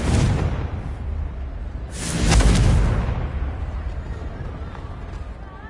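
A Confringo fire spell bursts in Hogwarts Legacy: a loud booming explosion with a whooshing rush that swells and then fades into a lingering rumble.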